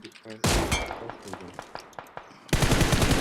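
Gunfire in the battle-royale game PUBG Mobile: rapid bursts of automatic fire with sharp individual shots, building to a loud dense volley at the end, mixed with a little background voice chatter.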